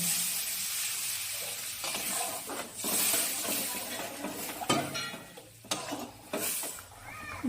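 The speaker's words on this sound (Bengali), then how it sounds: "এবার জল দিয়ে দিলাম" Water poured onto a frying spice paste with cashews and raisins sets off a loud sizzle that surges and fades in bursts, with occasional pan clinks.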